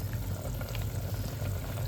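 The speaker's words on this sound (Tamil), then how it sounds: "பிஞ்சி பலாப்பழம் நல்லா வேக வச்சுருக்கிறேன்" Tender jackfruit boiling in a pot of water for curry, a steady close bubbling and gurgling with constant low rumble, no voices.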